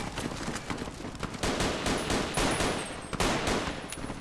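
Gunfire in Fallout New Vegas with a Vietnam War mod comes as a rapid fusillade: repeated sharp cracks and bursts of automatic fire crowd together over a few seconds, loud and close.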